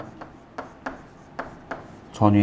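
Chalk or marker tapping and scratching on a classroom board as a formula is written, about five short, crisp strokes spaced through the clip, close and moderate, with a voice starting at the end.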